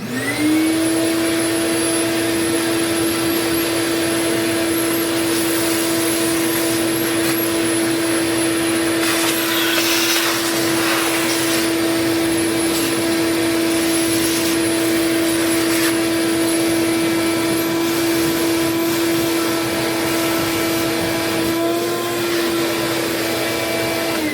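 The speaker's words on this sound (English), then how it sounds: "Alright, vacuum out this side here," A vacuum cleaner runs steadily and loudly for the whole stretch, sucking dust out of a black-paneled PS5 console, its pitch holding constant with brief shifts as the nozzle moves, no talking.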